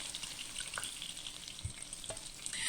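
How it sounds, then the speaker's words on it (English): Steady crackling sizzle of fish frying in oil, with a few soft utensil taps against the pan. "we can start frying the next batch"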